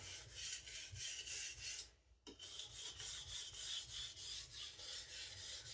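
A MagnaCut chef knife is stroked repeatedly across a sharpening stone, making a steady, close scraping rasp in even back-and-forth passes, with one brief pause before the strokes resume.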